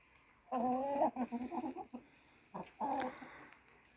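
A few short bursts of clucking from chickens and roosters, including a naked-neck, close by, with brief pauses between the calls.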